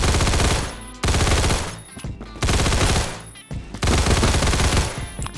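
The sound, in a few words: gunfire from a gun in video game Phantom Forces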